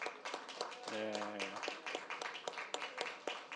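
Scattered hand claps from a church congregation during a Sunday worship service, sparse and uneven, with a voice speaking briefly over them.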